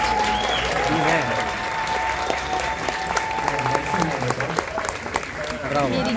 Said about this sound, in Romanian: Aș vrea foarte tare să aplaudăm toată lumea care a urcat